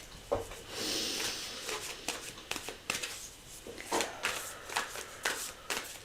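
Tarot cards being shuffled by hand, a steady run of crisp riffling and soft slapping bursts close to the microphone, with no talking.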